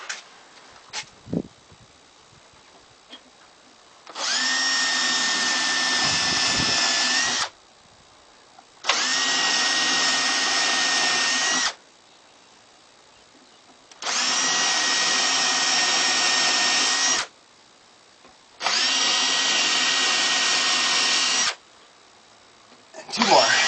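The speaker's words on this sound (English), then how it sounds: "I'm going to drill some pilot holes." A power drill drilling pilot holes in wood whirs in four sustained bursts of a few seconds each, separated by short pauses, close and loud.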